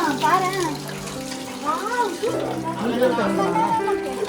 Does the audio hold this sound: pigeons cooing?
no